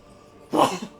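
A single sharp human sneeze bursts out alone, close and fairly loud, with a quick breathy tail fading over half a second.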